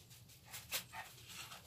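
A dog gives a short, faint protective bark or whimper indoors over a low background hum, with no one speaking.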